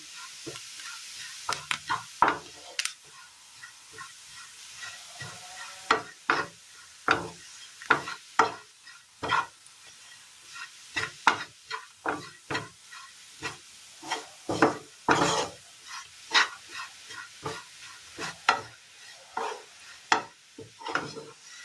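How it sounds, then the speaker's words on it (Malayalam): A spoon scrapes and taps steadily against a pan while stirring ground jackfruit seed paste, irregular knocks repeating over a faint background hiss. "ഇതിലേക്ക് നമ്മൾ ഈ അരച്ചെടുത്ത ഈ ചക്കക്കുരുവിൻ്റെ മിക്സിങ് ഇട്ട് കൊടുക്കാം."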